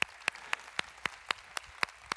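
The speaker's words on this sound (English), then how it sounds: "Yeah, you can clap." Audience at the Qualcomm COMPUTEX 2023 keynote clapping in sharp, evenly spaced unison beats, about four per second, nine crisp claps over a quiet, hushed hall.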